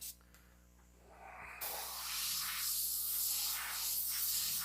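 Airbrush spraying paint, a soft airy hiss that starts after a quiet moment with a faint click and then holds steady and continuous, close and faint, with no one talking.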